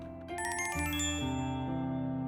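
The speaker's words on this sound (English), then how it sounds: "Just before the elevator doors open, my phone starts to ring." A mobile phone ringtone plays in an elevator lobby, a clear electronic melody of stepped tones sounding alone and fairly loud.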